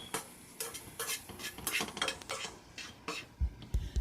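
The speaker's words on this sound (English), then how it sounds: "And so now I'm going to stir some more." A ginger and garlic cough syrup mixture being stirred in a pot: a spoon scrapes and clinks against the sides in quick, uneven strokes, fairly faint and close, with a couple of duller knocks near the end.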